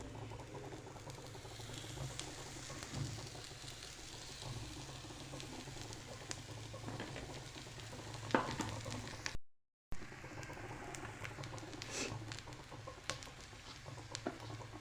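Coriander and gram flour fry in a pan, a faint, steady crackling patter of sizzling that runs throughout with a brief drop to silence partway.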